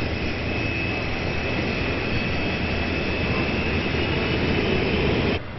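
Twin engines of a CF-18 fighter jet roar in a loud, steady broadband whine with a thin high tone running through it, constant for several seconds before dropping off abruptly at the end.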